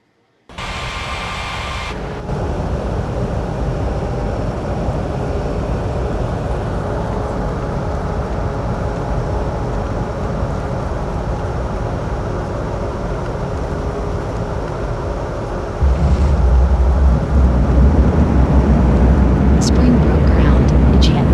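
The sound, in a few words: aircraft pushing back in an air traffic control video game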